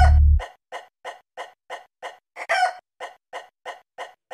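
Chickens at a chicken shop cluck in a steady, evenly spaced series of short calls, about a dozen in a row, close and clear, with one longer, harsher squawk midway and no talking.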